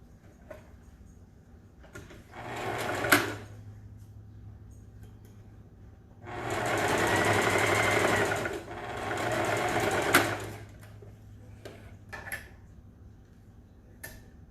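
A sewing machine runs in two steady bursts of stitching, a few seconds each, with softer clicks and handling noises before and between them.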